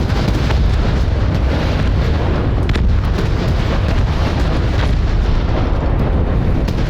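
Explosions from strikes on a turret in the Crossfire Legion strategy game: a continuous loud roar of rumbling blasts and crackling debris, steady and dense for the whole stretch.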